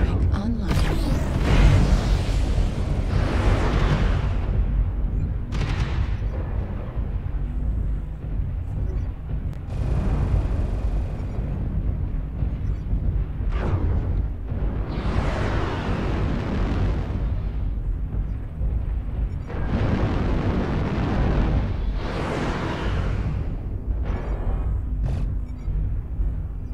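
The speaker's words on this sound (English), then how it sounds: "New target acquired. Artillery strike online." Artillery strike explosions go off in a video game as a series of heavy booms and rumbling blasts, one after another, loud and close, with voices talking over them throughout.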